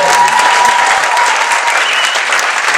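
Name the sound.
applause at a wedding speech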